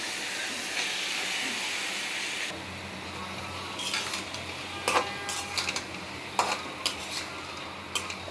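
Sliced papaya, potatoes and new flat beans go into a pan of cooked-down spices, turning a loud, steady sizzle into quieter frying broken by stirring clicks and scrapes.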